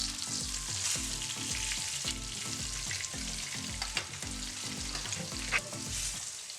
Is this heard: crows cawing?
no